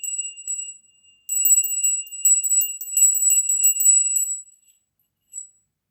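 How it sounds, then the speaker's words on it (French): A small hand bell rings in a quiet room, a bright, high metallic tinkling in several rapid bursts of shaking, then fading, with one last short ring after a pause. "Je vais prendre une petite cloche"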